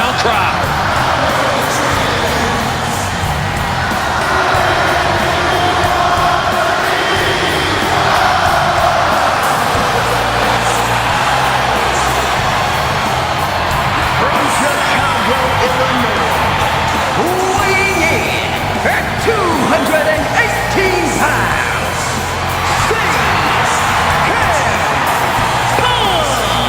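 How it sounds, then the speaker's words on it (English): A huge hometown crowd roars continuously with cheers and whoops in a wrestling video game (WWE 2K26), loud and sustained throughout, with commentators talking over the noise. "The loudest, most passionate ovation you may hear all year."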